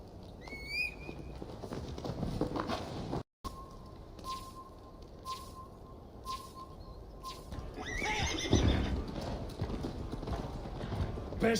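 A horse in Assassin's Creed Valhalla, hooves clip-clopping in an uneven rhythm with whinnies and neighs rising near the end, moderately close, alone without talk.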